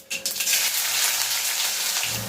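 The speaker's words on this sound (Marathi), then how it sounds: "फोडणी करून घेऊया" Mustard seeds, ginger and chilli hit hot oil with a sudden burst, then settle into a continuous crackling sizzle that holds steady, with a scrape near the end.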